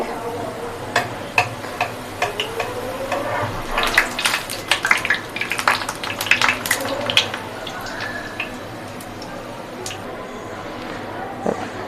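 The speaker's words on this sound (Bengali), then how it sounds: "তো দেখুন গাইস আমি কিভাবে লুচিগুলো ভাজি" Small luchi puffed flatbreads frying in hot oil, a steady bubbling crackle with bursts of sharp pops and ticks that swell in the middle, under a low background hum with no talk.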